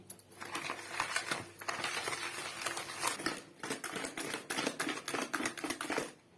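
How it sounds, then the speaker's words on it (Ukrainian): Rapid metallic clicking and tapping in bursts as a whisk beats eggs with sugar and vanilla sugar against a bowl, fairly close with brief pauses. "Все гарненько збиваю вінчиком."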